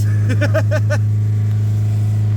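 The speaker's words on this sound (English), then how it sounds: "let's warm up the engine and let's have some fun, guys" A totalled Volkswagen Corrado engine idles on a cold day with no hood, a loud steady low drone with harmonic hum, briefly overlapped by a short vocal sound near the start.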